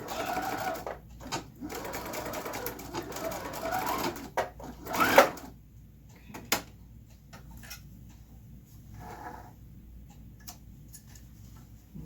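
A sewing machine runs a back stitch through mesh, quick rhythmic mechanical ticking in short runs separated by pauses, with a few louder clicks and handling knocks, close and fairly quiet, no talk.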